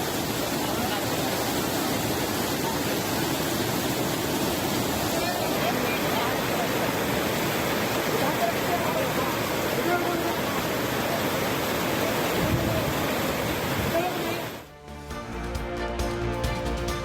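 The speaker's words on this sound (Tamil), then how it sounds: "சிப்ரா நதியில் ஆர்ப்பரித்து செல்லும் வெள்ளம்" Floodwater roaring down the Shipra river after heavy rain: a dense, continuous rushing roar like a waterfall, loud and unbroken, ending abruptly near the close as a different sound takes over.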